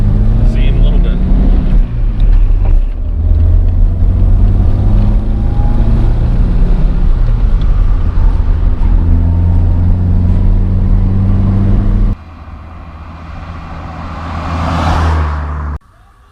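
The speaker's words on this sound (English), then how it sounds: "we'll just cruise it around and see in a little bit" A 1971 Datsun 510 cruises with a loud, steady engine drone heard from close by, then drops to a quieter idle before revving up and cutting off sharply.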